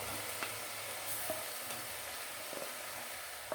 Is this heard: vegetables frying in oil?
yes